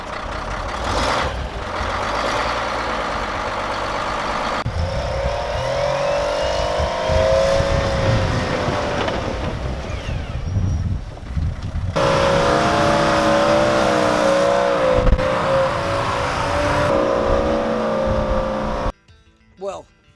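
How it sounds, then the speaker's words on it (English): An old Wabco earthmoving truck runs close by with a loud, steady engine drone and shifting rumble that rises and falls, ending in a brief cutoff near the end. "you've just seen some footage there of how this old rig runs"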